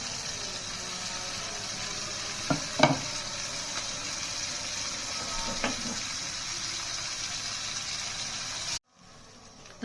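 Dried fish frying in a pan for a mixed curry with potato and vegetable stems: a steady, hissing sizzle with a few scraping stirs, then an abrupt drop to near quiet just before the end.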